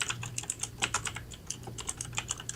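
Rapid, uneven clatter of computer keyboard keys being typed on, close and crisp, with irregular bursts of keystrokes and no talking.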